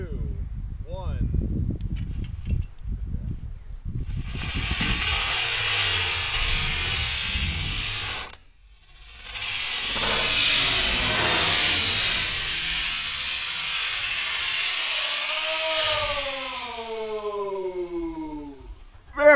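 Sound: model rocket launch

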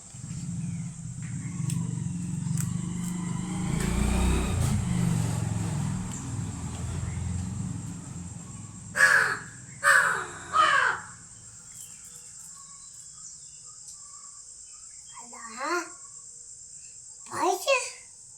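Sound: crows cawing while being fed

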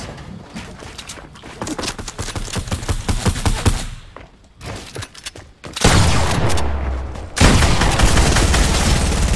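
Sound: SMG gunfire in the video game Fortnite

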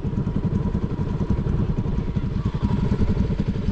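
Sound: motorcycle engine idling

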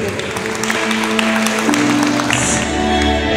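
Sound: audience applause at a quinceañera party

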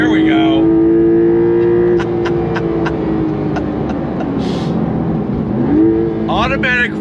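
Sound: 2023 Porsche 911 Carrera T engine revving to the red line

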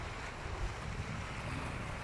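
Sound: waves crashing against rocks

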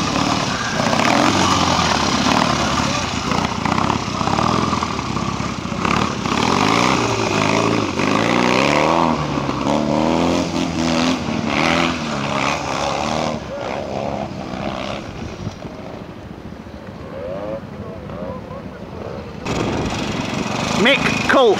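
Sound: Royal Enfield trial motorcycle engine in a quarry

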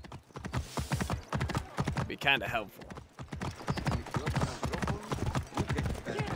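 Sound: horse galloping in the video game Assassin's Creed Origins

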